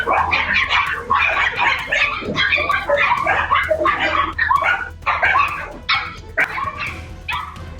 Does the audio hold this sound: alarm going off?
no